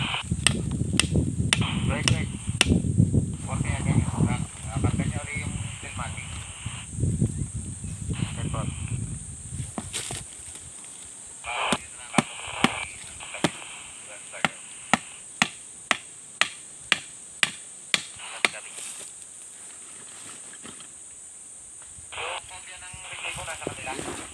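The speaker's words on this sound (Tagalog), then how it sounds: "pinapakuan po ito ng paltak na sinasabi namin pako ng kawayan" Bamboo nails (paltak) being hammered into wood while plants are bound with cardboard. After a stretch of talk, a steady run of about a dozen sharp, evenly spaced knocks sounds close and clear, with little else over them.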